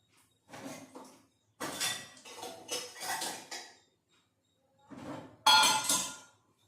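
Dishes, lids and cutlery clinking and clattering as they are set into a dishwasher rack, in several short bursts separated by brief quiet gaps.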